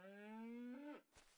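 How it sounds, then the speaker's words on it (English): A cow moos inside a Minecraft-style video game, one long, clear, drawn-out call with a falling pitch at the end, close and alone, followed by a brief soft thump. "Right, I heard the cow."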